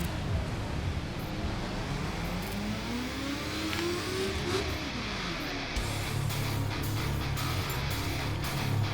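A car engine in the racing game The Crew Wild Run drones and revs steadily and loudly, its pitch rising and falling as it shifts under hard braking.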